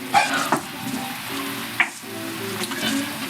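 Vegetables with minced garlic sizzle in a pot for tomato bisque, steady close frying hiss with a few scraping clatters of a spoon stirring.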